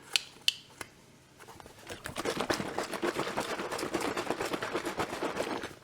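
A carton of broth sloshes as it is shaken, giving a rapid, close patter of liquid thumps after a few sharp clicks at the start. The shaking carries on steadily to the end with no talk.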